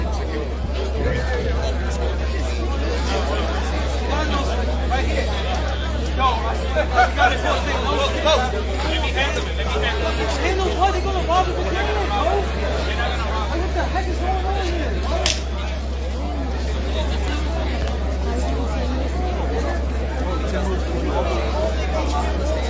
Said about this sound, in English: we got a nice little crowd over here